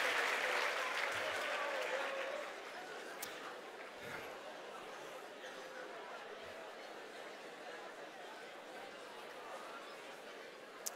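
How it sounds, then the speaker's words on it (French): A church congregation claps in a busy wave with scattered cheers and chatter. The applause fades after about two seconds into quieter crowd murmur and a few stray claps. "Dans le nom de Jésus, est-ce qu'on peut applaudir?"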